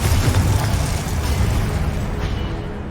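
Confringo blasting spell going off in Hogwarts Legacy, a loud dense burst of rumbling, crackling explosion that fades slowly over a few seconds, no voices.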